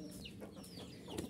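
A hen clucks in short, scratchy bursts alongside other poultry at a backyard setup where eggs are candled and fancy chicks are raised, close by against steady background noise.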